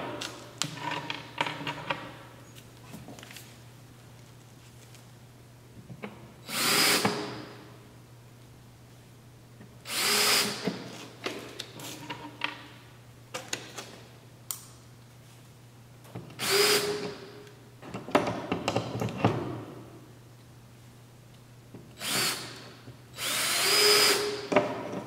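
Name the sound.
power drill driving screws into plywood concrete forms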